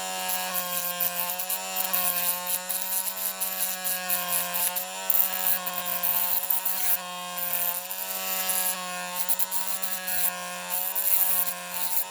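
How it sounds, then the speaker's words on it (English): A rotary drill grinds away a flange on a model bus during a strip-down, a steady high whining grind with a constant motor tone running unbroken and close. "You can use your rotary drill to do this"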